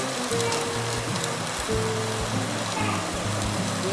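Chopped onion sizzles as it drops into hot oil for Moradabadi pulao, a steady crackling hiss that runs throughout at close range with no talk over it.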